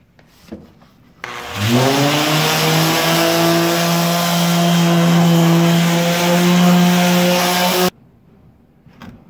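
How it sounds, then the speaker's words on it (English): A power sander works an eastern red cedar slab with 80 grit paper, starting abruptly, rising to a loud steady whine with strong harmonic tones, running about six seconds and cutting off sharply, with quiet before and after. "we're about to sand this slab with 80 grit"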